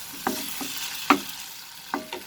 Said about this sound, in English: we will saute this over medium flame till the masalas gets cooked